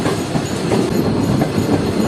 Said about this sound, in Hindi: इस वक्त तकरीबन 12:30 बजे हमारी ट्रेन पहुंच रही है भावलपुर